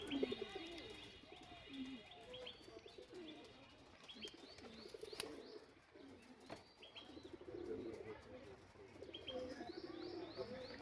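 Pigeons coo softly and repeatedly in a pigeon farm loft, overlapping one another, with occasional faint chirps in a quiet, enclosed-sounding space.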